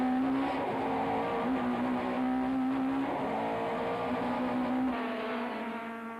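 Touring race cars, a Toyota Camry and BP Nissan Sentras, braking and racing at Killarney in the 1994 South African Touring Car Championship, with a loud sustained engine drone whose pitch falls and rises as they slow and accelerate.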